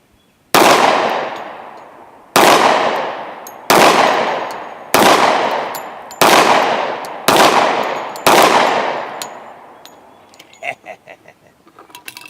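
Seven loud, close gunshots from Remington 180 grain hollow point rounds fired at a plastic jug outdoors, each a sharp crack with a ringing decay, spaced one to two seconds apart, followed by faint clinks and rattles.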